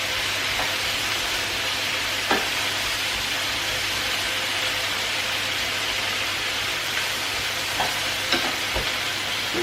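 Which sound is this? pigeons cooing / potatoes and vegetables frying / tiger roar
potatoes and vegetables frying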